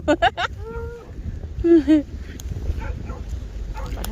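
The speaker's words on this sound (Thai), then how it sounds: "มาเห่าทำไม" A dog barks in a few sharp bursts at the start, then gives a pair of higher yelping barks a moment later, fairly close, with a person's voice and background noise around it.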